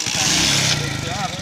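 A motorcycle running out of petrol sputters and struggles with an uneven, rough engine drone at close range, under urgent talking.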